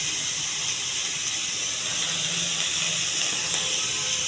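Curry leaves hit hot oil for a red cabbage fry tempering, producing a loud, continuous close hiss that barely varies from start to finish.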